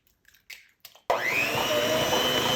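An electric mixer beating eggs into a sugar batter for plum bread starts abruptly after a few soft knocks and keeps up a loud, steady whirring drone to the end.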